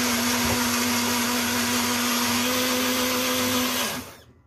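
A kitchen blender blending melon soup whirs steadily at high speed for several seconds, then cuts off abruptly near the end.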